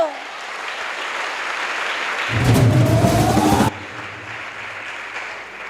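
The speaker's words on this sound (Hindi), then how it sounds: "मैं चाहूंगी हमारे अदोसा के लिए एक बार जोरदार ताली दोस्तों" An audience at the Udaan Megha Show gives a hearty round of applause, a continuous rush of clapping that swells louder for a second or so midway, then settles back to a steady level.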